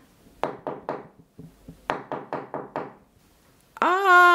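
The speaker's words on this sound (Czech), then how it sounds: "Je, a jak úctivě klepe na dveře." Knocking on a wooden door in a children's story scene, three knocks, a pause, then a faster run of about six knocks, crisp and close, followed by a sudden sustained sound at the end.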